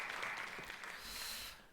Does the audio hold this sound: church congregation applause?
yes